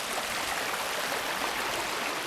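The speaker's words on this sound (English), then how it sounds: "See that water on the left hand side still flowing." Water running along the left side of a forest trail near the Rhode Island–Connecticut line, a constant even rushing hiss, close and unbroken, with no voices.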